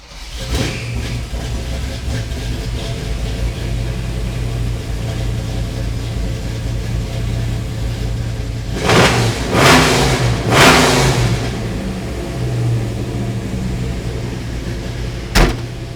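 AMC engine in a Jeep CJ running at a steady loud idle, then revved hard in several quick throttle blips before settling back, with a sharp clack near the end.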